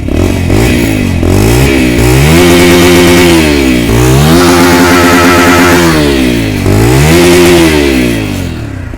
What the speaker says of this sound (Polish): Na żywo ten motocykl brzmi jeszcze lepiej.